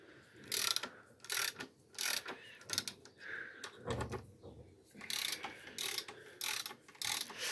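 A ratchet clicks in repeated short bursts while unscrewing bolts on a DTZ 4244 tractor during a differential repair, each burst of close, sharp ratcheting separated by brief pauses.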